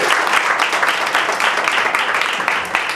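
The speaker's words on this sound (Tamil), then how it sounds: "அதுக்காக அவருக்கு ஒரு கைதட்டு" Applause for a speaker at a G.S.Land Promoters event, dense steady clapping from a crowd filling the room without pause.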